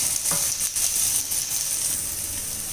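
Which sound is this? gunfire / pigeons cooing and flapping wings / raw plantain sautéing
raw plantain sautéing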